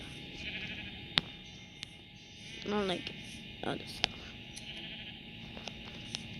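A sheep bleats in a Minecraft sheep farm, a short wavering call in the middle, with a person talking around it and occasional clicks from gameplay.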